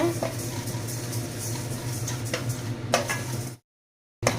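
100 grams of white sesame seeds roasting dry in a pan for idli podi, a steady granular rustle and light sizzle with occasional scrapes of a stirring spoon, close and continuous before cutting briefly to silence.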